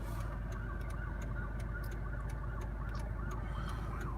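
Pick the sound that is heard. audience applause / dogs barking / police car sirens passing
police car sirens passing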